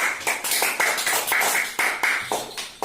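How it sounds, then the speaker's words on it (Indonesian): A small group of children claps for a classmate at the end of a lesson, a loose, uneven run of close hand claps with distinct individual strikes. "Tepuk tangan untuk Egis."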